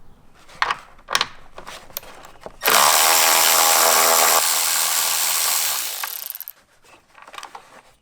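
A ratchet or power tool works the battery foot clamp bolt on a Jeep JL Wrangler, with a few short clicks followed by about four seconds of loud, steady close whirring and then more scattered clicks.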